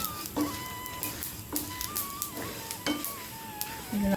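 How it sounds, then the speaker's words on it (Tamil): Mustard seeds crackle and sizzle in hot oil, with sharp popping bursts recurring over a steady frying hiss, close and fairly loud. "பொரிஞ்சு வருது பாரு கடுகெல்லாம் ம் சவுண்டு கேட்கு"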